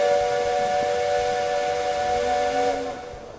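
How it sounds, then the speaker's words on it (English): A steam locomotive whistle in the Railway Empire video game blows one long, loud, steady blast with hissing steam, tailing off at the end. "Blow the whistle."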